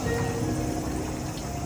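Water runs from a stone purification fountain at a Japanese Shinto shrine as hands are rinsed, a steady soft trickle and splash close by with no talking.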